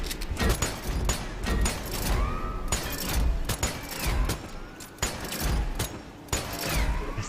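Rapid volleys of gunfire ring out in the co-op shooter Strange Brigade, a dense string of sharp, loud shots and booms firing in irregular bursts across the whole stretch.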